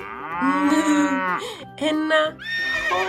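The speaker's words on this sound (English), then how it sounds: "a cow," A cartoon cow moos, a long drawn-out loud low moo followed by a shorter second moo, clean and close, then a brief trailing tone, in a children's farm animal sounds game.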